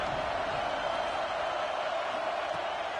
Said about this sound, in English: Here comes the noise from this big crowd in Happy Valley on third down.